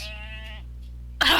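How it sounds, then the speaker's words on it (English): A single sheep bleats close by in a wavering, drawn-out call, followed by a pause and then a short, loud rustling burst near the end. "A sheep gazed down at me as she chewed on some grass."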